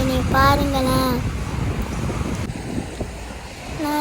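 Sea waves wash onto the sand at Pakkirapa beach in the early morning, a steady broadband surf hiss mixed with wind buffeting the microphone, while a voice talks briefly at the start and end.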